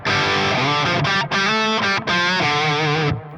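Metal lead tone from an electric guitar run through an Iconic Guitars I Scream overdrive pedal, a loud, sustained distorted passage of ringing notes and chords with brief breaks, played alone without talk.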